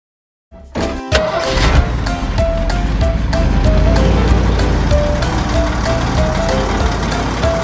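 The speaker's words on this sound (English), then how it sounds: "Pink ice cream truck." Ice cream truck jingle playing loud and steady, a repeating tinny melody over constant broadband noise, starting abruptly after a brief silence and continuing to the end.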